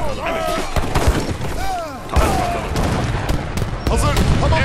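Cannon fire strikes a base in the video game Age of Empires 3, a fast volley of booming shots and thuds with crashing impacts and short whistling projectiles, loud and dense throughout.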